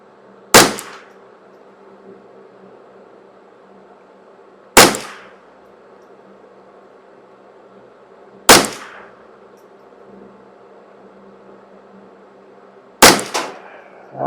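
Four sharp shots from a custom Ruger 10/22 rifle firing EPS bullets at targets, evenly spaced a few seconds apart, each a crisp crack that rings briefly, with a faint steady background hum between shots.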